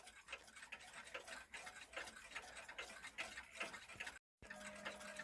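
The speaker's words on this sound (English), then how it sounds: "This is a motor strike and wind clock." A Hermle motor-wound striking clock ticks in a steady, even rhythm, close and fairly quiet, with a brief dropout near the end and no voices.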